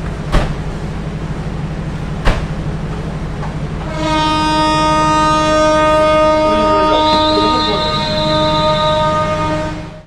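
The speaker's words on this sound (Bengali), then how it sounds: "আমরা আমাদের নির্ধারিত 2 মিনিটের যাত্রা বিরতি শেষ করে ডিপারচার নিচ্ছি চুয়াডাঙ্গা জেলার চুয়াডাঙ্গা রেলওয়ে স্টেশন থেকে" The Intercity Chitra Express pulls out of Chuadanga railway station at night. Two sharp clacks come first, then a long, loud horn blast that holds for several seconds over the rumbling train.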